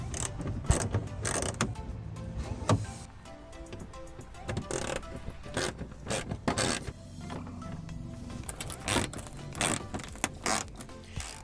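Wheel well liner bolts are backed out on a 2021 Ford F150 during an LED headlight install, making rapid ratcheting and rubbing clicks in irregular bursts up close, with brief pauses and no talking.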